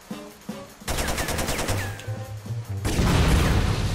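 An SMG in Jet Li Rise to Honor fires in rapid, loud bursts of automatic gunfire, broken by brief pauses, with crashes and impacts mixed in.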